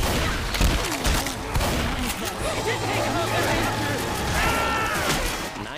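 Gunfire in a shooter video game, with dense overlapping shots and clattering bursts throughout, layered under game effects and chatter that continue the whole time.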